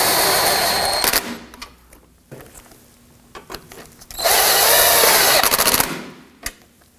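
A power tool tightens the lower bumper bolts on a Ford F-150, giving two loud, close whirring bursts of about a second each, separated by a quieter stretch of clicks and handling noise.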